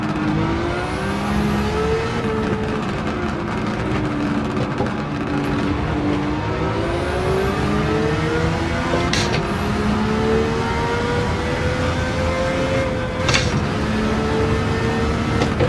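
A Nissan race car in Gran Turismo 7 roars continuously during an onboard race, its engine pitch climbing and dropping through repeated gear shifts, loud and steady with no talking over it.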